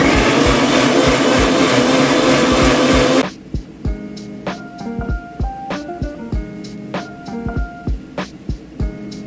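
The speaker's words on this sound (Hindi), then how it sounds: "अब हम ये 4 टमाटर पीस लेते हैं।" A mixer grinder whirs loudly while four medium tomatoes are ground, a steady dense roar for about three seconds, then it cuts off and quieter kitchen clinks and taps follow.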